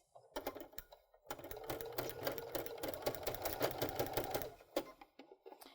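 A Baby Lock sewing machine fitted with a garment maker foot stitches tucks in two runs, a short burst and then a longer stretch of rapid, rhythmic mechanical clatter, fairly close and alone.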